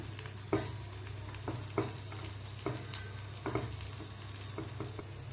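Ingredients stirred and flipped in a frying pan over the heat, with a steady low sizzle beneath a series of scraping, clattering turns spaced irregularly, close and moderately loud, with no talking.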